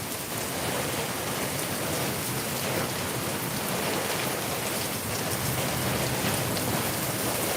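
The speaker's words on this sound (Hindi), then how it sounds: "तो देखिए कैसे पेड़ से पानी गिर रहा है।" Monsoon rain falls steadily in Darbhanga while water drips from a tree, a dense, even hiss of raindrops on surfaces with no pauses or voices.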